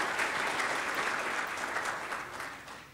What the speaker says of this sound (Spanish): les pediría a todos ustedes un aplauso para Luis